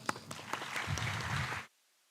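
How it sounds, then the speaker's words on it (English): An audience applauds at a student induction event, a dense burst of clapping at moderate level that swells briefly and then cuts off abruptly after under two seconds. "big round of applause for them"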